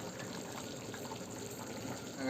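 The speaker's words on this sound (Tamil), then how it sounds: "ஊற வச்ச அரிசி எடுத்து உள்ளே போட்டுக்கலாம்" Soaked rice tipped into a pot of boiling water for biryani, giving a steady close bubbling, watery rush that holds throughout without a break or any speech.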